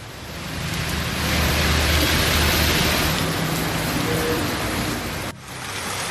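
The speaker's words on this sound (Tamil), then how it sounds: "மோகனூர் உள்ளிட்ட பகுதிகளில் சுமார் 1/2 மணி நேரத்திற்கும் மேலாக மழை பெய்தது" Heavy rain pours down in Mohanur, Tamil Nadu, a dense, steady roar of broadband hiss that holds for about five seconds and then drops off abruptly near the end, with no voices.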